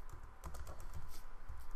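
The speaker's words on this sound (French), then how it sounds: "Mon saloperie de clavier AZERTY." Fast typing on an AZERTY computer keyboard, a run of quiet, irregular key clicks and taps close by, with no voices.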